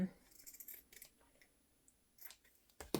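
Scissors snip through fabric while trimming a piece for decorating a beginner's journal, giving a few soft, close cutting sounds in otherwise quiet surroundings.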